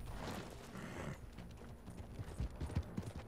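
Horse hooves clip-clopping in Red Dead Redemption Online: a rumble of movement, then a string of distinct hoof thuds picking up near the end, fairly quiet with no talk.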